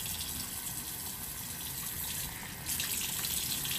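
Tap water runs at a sink to wet the face before an exfoliating skincare step, a steady close splashing flow that swells slightly louder near the end, with no talking.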